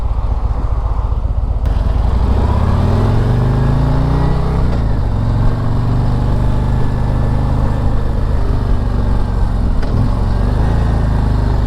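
A 2023 Harley-Davidson Street Glide ST engine rumbles loudly while riding, with rising gear pulls, then downshifting and engine braking under steady wind noise, continuous throughout.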